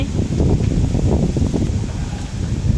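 Wind blowing through a bamboo stand in a rural setting, a steady loud gusty rush with rustling and heavy low buffeting on the microphone, no voices.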